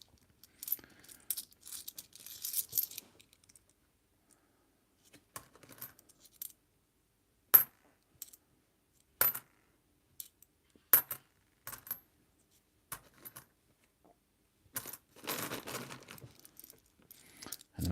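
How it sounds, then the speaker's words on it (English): Coins are sorted by hand into small bags, giving scattered metallic clinks and jingles in short bursts separated by quiet pauses, close up and with no talk. "putting the cleaner coins into the bag below me, and then the dirty coins to the side into another little bag"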